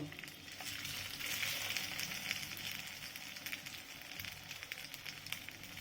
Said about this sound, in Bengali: তেল তেতে গেছে, আমি একটা একটা করে দিয়ে এগুলোকে ভেজে নেব।